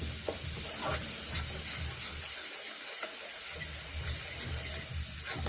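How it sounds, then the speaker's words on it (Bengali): Garlic and green chilli paste stirred in hot oil for garlic palak paneer makes a soft, low sizzle with faint spoon scrapes repeating at an even pace, fairly quiet and without speech. "রসুন আর কাঁচা লঙ্কার পেস্টটা আমি ভালো করে তেলের মধ্যে নেড়ে নেবো"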